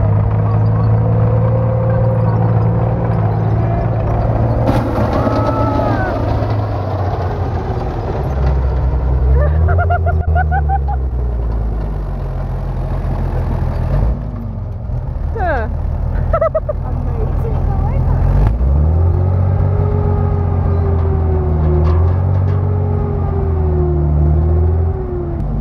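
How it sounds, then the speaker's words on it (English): A tank at a World of Tanks Xbox One event rumbles and grinds as it rolls over and crushes a car, with heavy engine drone, metallic crunches and creaks over about twenty-five seconds, and voices talking throughout. "we got to witness a tank rolling over a car"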